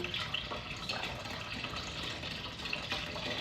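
Broth poured into a pot for hotpot, a steady close stream of liquid splashing and trickling for several seconds with no talking.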